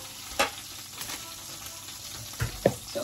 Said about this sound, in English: I'm gonna add the steak on this grill